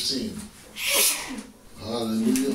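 A person sneezes once, sharp and close, in the middle of a church Bible reading, with a breathy intake before it and spoken words around it.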